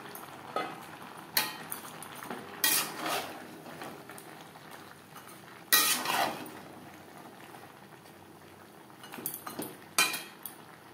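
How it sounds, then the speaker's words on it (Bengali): Metal spoon scraping and clinking in a pan while mixed vegetables with pointed gourd and jackfruit seeds are stirred together, intermittent sharp clatters over a quiet simmering background, no talking. "সবজির সাথে পটল ও কাঁঠালের দানা বেশ ভালো করে মিক্সড করে দেবো।"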